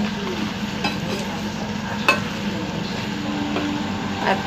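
Sweet pickle of Fazli mango bubbling in a pan, a steady low simmering sizzle with occasional soft clicks of a spoon against the pan, close and continuous with no voices.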